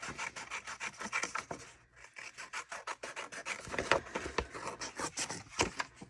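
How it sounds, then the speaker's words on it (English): Paper being trimmed for a travel journal spread makes a run of soft, rhythmic rubbing and rasping strokes, close and fairly quiet, with a brief pause partway through. "I'm just going to trim this real quick so that I can line it up and see what's up."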